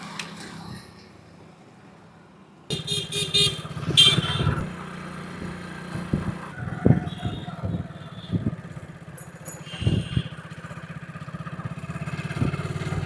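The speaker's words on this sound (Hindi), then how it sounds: "फ़िलहाल के लिए स्टार्ट करते हैं बाइक" A motorcycle is started after a quiet stretch, then idles and rumbles as it rides off, with engine revs rising and falling steadily under light road noise and scattered bumps.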